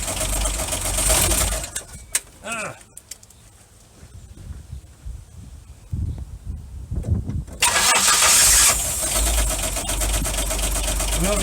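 A Ford Granada 3.0 GL automatic, left sitting for two months, cranks and fires, goes quiet, then cranks again and catches into a loud, rough idle up close.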